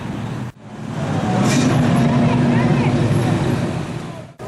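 Street traffic at a car cruise event, car engines rumbling past on a city street, a steady roar that builds and fades, with city background noise around it.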